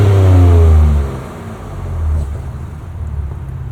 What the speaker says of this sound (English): All right, Chris, give us a couple revs here with the Ranger Raptor.